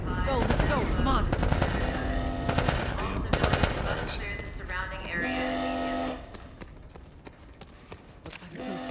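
Gunfire in the video game The Last of Us Part, rapid bursts of shots in quick succession, loud and close, mixed with shouting voices and in-game commotion.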